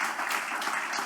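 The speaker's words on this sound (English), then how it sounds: "So a round of applause for Sonny, and a round of applause for Jeff" Round of applause from the crowd at an outdoor Irish campfire gathering, a steady dense wash of clapping held for about a second with no breaks.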